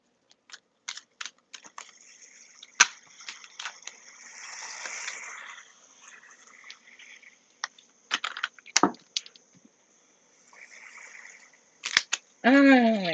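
A brand new, sticky tarot card deck being shuffled, with bursts of card riffling and clicking taps scattered across the clip, close and moderately loud, with quiet gaps between the bursts.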